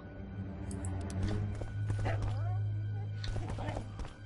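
Dog barking and whimpering in The Witcher 2 game, short yips over a steady game soundscape with a person talking throughout.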